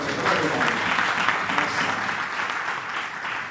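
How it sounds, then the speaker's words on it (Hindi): An audience bursts into hearty applause during a business presentation, dense clapping that stays loud and even for a few seconds before tapering slightly, with faint voices mixed in. "एक जोरदार तालियां"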